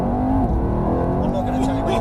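A Mercedes car accelerates at full power at close range, its engine roar loud and steady throughout, with people talking over it.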